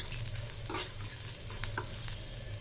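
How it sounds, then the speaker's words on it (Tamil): Ground pepper, cumin and garlic frying lightly in a pan for coconut milk rasam, giving a soft, steady sizzle with faint stirring scrapes, close and quiet. "போட்டு இதை நல்லா கொஞ்சம் லைட்டாக அப்படியே வறுத்துட்டு"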